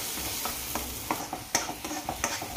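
Onion-garlic masala with chilli powder and turmeric sautéing in a pan, a soft continuous sizzle broken by repeated scraping and stirring knocks from a spatula, close and fairly quiet.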